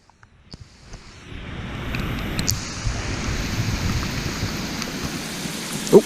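Rain falling outdoors at a fishing spot near sunset, a steady dense patter that starts after a few light drops and continues evenly, with a brief sharper knock at the end.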